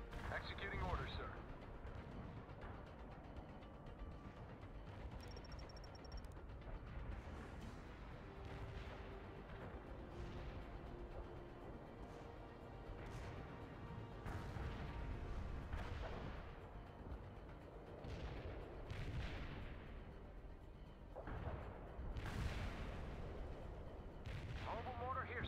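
Artillery firing in the real-time strategy game World in Conflict: Soviet Assault, a series of dull booms and sharp reports spread irregularly through a busy battle bed, with faint voices in the mix.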